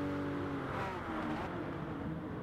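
Race car engine in Gran Turismo Sport, a steady droning rev with shifting pitch as the car drives into a braking zone, loud and continuous.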